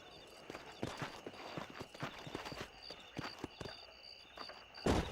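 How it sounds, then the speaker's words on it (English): Horse hooves clip-clop in Red Dead Redemption on Xbox Series S, a brisk uneven patter of hoofbeats close by, with a brief louder thump at the end. "These are fine horses."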